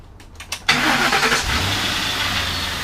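A junkyard police car, a Ford Crown Victoria, its engine formerly knocking, cranks briefly and catches, then settles into a steady, fairly loud idle close by with no talking over it.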